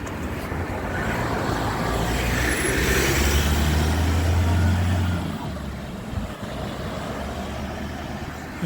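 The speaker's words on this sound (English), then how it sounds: "not worth trying to dodge traffic." Road traffic rolls past near a small bridge on a wet day, a loud vehicle rumbling through closest in the middle before fading into a steady background roar.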